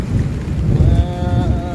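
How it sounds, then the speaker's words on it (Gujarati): A heavy downpour roars as dense, loud, continuous rumbling rain with a deep low wash and no gaps, close by and without voices; a faint high tone drifts through partway. "ધોધમાર વરસાદ આવી ગયો છે"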